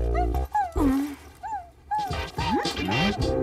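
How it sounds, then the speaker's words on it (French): A cartoon dog gives a run of high, sliding whimpers and yelps, close and expressive, broken by short pauses and followed by a busier burst of whining cries. "qu'est-ce que c'est que ça? Un chien."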